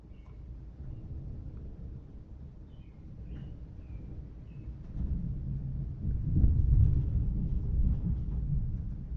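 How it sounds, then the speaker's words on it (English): Thunder from storms rolling through rumbles low and distant, swelling gradually to a deeper, louder roll after the midpoint, with faint bird chirps early on and no talking. "That is thunder, and not my cat thunder. That is actual thunder. There are storms rolling through."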